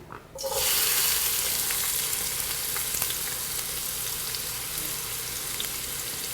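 Chopped onion hits hot olive oil in a medium saucepan over medium-high heat and sets off a loud, steady sizzle that keeps going after a brief quiet start, with no talking.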